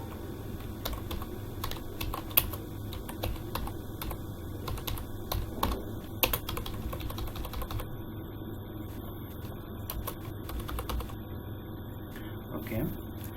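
Typing on a computer keyboard while writing in Notepad, with rapid irregular key clicks running throughout, close and clear, with a few short pauses between bursts.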